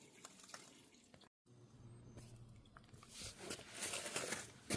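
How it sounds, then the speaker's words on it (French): Engine coolant drains drop by drop from the opened cooling circuit of a VAG 1.5 TSI engine, a faint trickle and patter of liquid that rises toward the end. "À ce niveau, on voit que ça coule au goutte à goutte."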